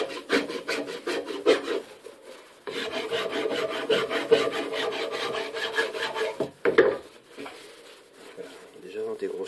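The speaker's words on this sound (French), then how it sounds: "je prends la lime à métaux" Metal file rasping on the steering wheel of a Citroën Traction Avant, steady back-and-forth strokes in a quick rhythm, close and prominent, with a short pause partway through.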